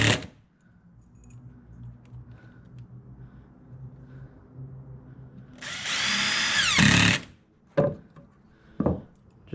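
A power drill drives screws into a wooden DIY dog house: one loud, steady whir of about a second, then a few sharp knocks and clacks of handling against a low, quiet room background.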